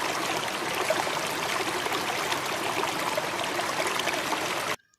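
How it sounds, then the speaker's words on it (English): Steady rushing and trickling of flowing water, a continuous close stream sound with no voices, cutting off abruptly at the end. "W for water."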